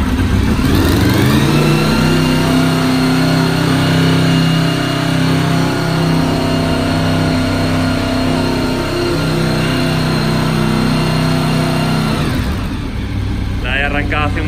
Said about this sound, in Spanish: sin problema va a mantener ralentí, y hemos verificado que esta moto funciona perfectamente